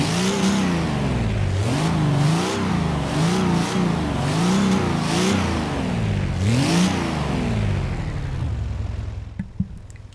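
A 2016 Nissan Titan Warrior Concept fitted with bigger turbos revs hard in Forza Horizon 3, its engine climbing and dropping through about six rising and falling sweeps, loud and close, before settling to a low idle at the end.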